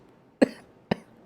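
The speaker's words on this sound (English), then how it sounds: "yeah, I have a cough" Two sharp coughs from a person close by, about half a second apart, each brief and abrupt against a quiet background.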